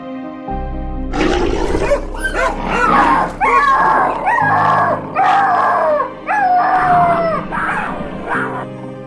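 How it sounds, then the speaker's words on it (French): A dog howls and yelps under attack from a hungry leopard, loud and close, with a continuous string of strained cries, growls and roars layered over a low rumbling background. "l'un des léopards affamés a attaqué un chien sans pitié"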